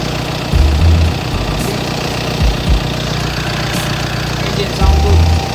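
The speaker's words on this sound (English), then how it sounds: "and then start the engine" An Audi A6 engine, freshly fitted with a new water pump, crankshaft pulley and fan belt, runs steadily and loudly at close range. It rumbles and clatters at idle with brief surges, while a voice speaks over it.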